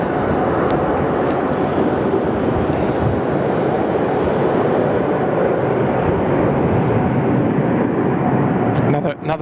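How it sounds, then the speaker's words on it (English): An Etihad Boeing 787 bound for Abu Dhabi takes off from Sydney Airport, a loud, steady broadband jet roar that holds throughout and swells slightly near the end. "Etihad 1 Sierra Alpha off to Yabba Dabba Doo this afternoon. Abu Dhabi bound 787."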